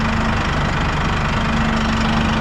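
Massey Ferguson 1E.40 compact tractor running steadily, a loud, close engine drone with a pulsing low rumble and hydraulic whine while the loader bucket tilts.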